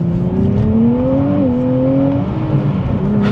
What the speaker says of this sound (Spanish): Y camina bien el carro, camina bien.